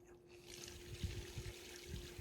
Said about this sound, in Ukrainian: Я хочу воды набрать